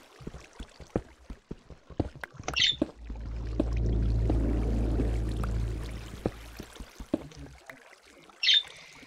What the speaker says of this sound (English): There's water nearby, and I can hear it flowing.